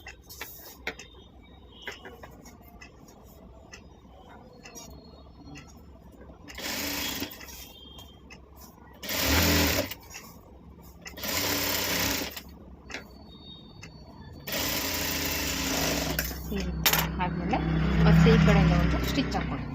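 A sewing machine stitches a round handbag in several separate bursts of steady whirring, close and loud, between stretches of quieter room sound, with a voice talking throughout.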